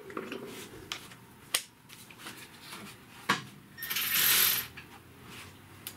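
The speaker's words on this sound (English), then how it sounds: "go in there with my power ratchet and carefully persuade it to hop up on the dowel pin" A power ratchet spins and clicks during an engine swap on a 2013-2017 Honda Accord. It gives several sharp mechanical clacks and short whirring bursts up close, with a longer buzzing run near the end and no talking.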